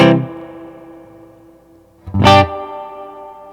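A guitar chord through an Onerr DD-1 digital delay, reverb set to 3, rings out and decays into a long reverb wash, then a second strummed chord blooms with trailing echoes fading behind it; no voices.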